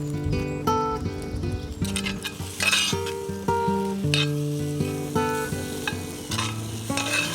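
Tomato halves cook and caramelize in a stew pan, a soft sizzle with stirring sounds partly buried under prominent background music.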